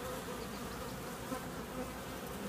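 Honey bees swarm and buzz around a queen cage inside a Vermont hive, a close, continuous dense hum holding steady with no voices.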